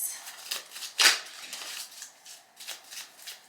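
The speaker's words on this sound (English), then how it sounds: "Shuffle all our cards." Tarot cards being shuffled by hand, a soft papery riffle with a sharper burst of flicking near the start, then lighter rustling pulses close by, with no talking.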